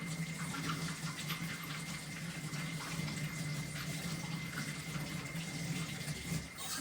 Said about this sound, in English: So I'm gonna wash them real quick.